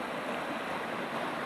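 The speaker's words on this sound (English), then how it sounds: "the only thing you can hear from where like I am now is like the sounds of the river" A river in the East African mountains rushes in a constant, dense wash of water noise, close and steady with no pauses and no voices.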